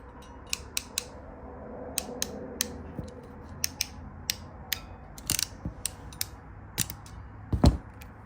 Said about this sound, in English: we can crimp the black wire on the 16 gauge setting